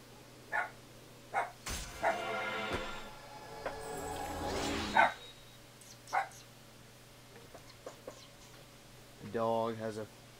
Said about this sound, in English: Dog has some desire to bark.